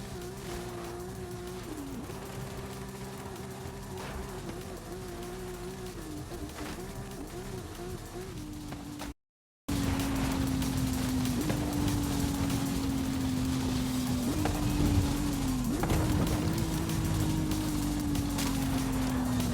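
A car engine drones in Forza Horizon 5, its pitch stepping through gear changes as it accelerates, dropping out briefly before returning louder with steady revving and shifts.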